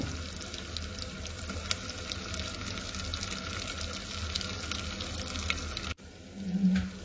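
Onions and tomatoes frying together in a pan for a prawn biryani, giving a steady, fairly quiet sizzle that runs almost the whole time before breaking off near the end, no talk.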